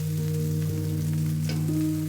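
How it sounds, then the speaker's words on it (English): Red onions sauté in avocado oil in a non-stick pan over medium heat, giving a steady, even sizzle with a few faint stirring scrapes and no voices. "Red onions. Saute for 2 to 3 minutes."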